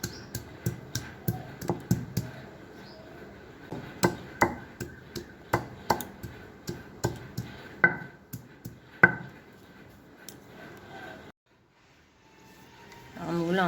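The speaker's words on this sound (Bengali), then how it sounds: "আমি আজকে ছিলে থেঁতো করে করছি" Peeled mangoes pounded for Bengali mango chhechki, a run of sharp, evenly spaced thuds repeating about once a second at close range, then stopping before a short quiet stretch.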